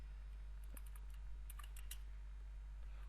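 Sparse keystrokes on a computer keyboard tap out in small clusters, quiet and close, over a steady low electrical hum and faint hiss.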